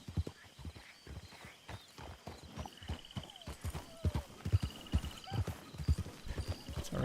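A horse's hooves clip-clopping under a rider, uneven and close, with the footfalls growing heavier and more frequent as the ride goes on.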